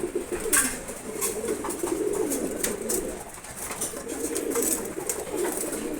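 At a pigeon farm, several pigeons coo in low, throaty, overlapping murmurs, steady and close, with faint bird chatter behind and no talking.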